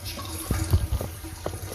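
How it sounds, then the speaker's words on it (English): Bath water drains after a ferret is washed: close, gurgling splashes and trickles with a few louder glugs over a steady watery hiss. "you're going to want to drain the water"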